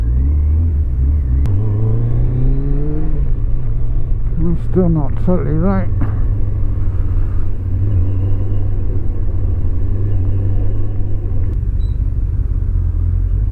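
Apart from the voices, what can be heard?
motorcycle engine idling fast, strange sound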